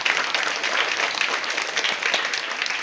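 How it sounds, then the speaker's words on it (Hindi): A seated audience claps in a dense, steady round of applause, loud and close, holding level for a few seconds before tapering slightly at the end. "उसके लिए भी ताली बजाओ।"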